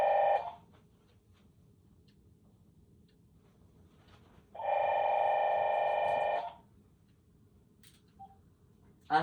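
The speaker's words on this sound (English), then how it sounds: "the phone's ringing." A telephone rings in two bursts, first a short tail of a ring and then a full electronic trill lasting about two seconds, over quiet room hiss.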